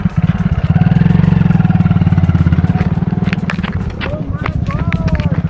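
A motorcycle engine thuds close by in a rapid, steady, loud pulse at a village picnic spot, with people talking and calling out over it as it runs.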